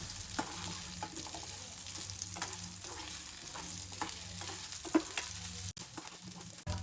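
Kozhukattai rice dumplings are sautéed in a hot pan, giving a steady close sizzle and frying hiss with repeated scraping stir strokes and occasional utensil knocks.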